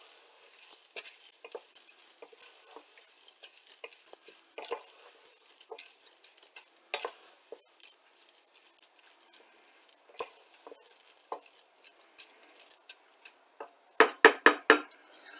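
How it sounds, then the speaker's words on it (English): Dry soup mix being stirred into a pot with oil and fat, heard as a steady run of close, scraping and rustling spoon strokes with light clinks, irregular in rhythm, ending in a quick burst of sharper scrapes; no talking. "We're going to stir this up."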